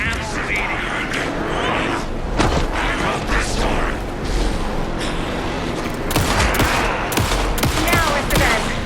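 Rapid gunfire aimed at an enemy in the game Alan Wake 2, with bursts of sharp shots and clanking mechanical sounds over a dense, loud backdrop, with voices talking amid the action.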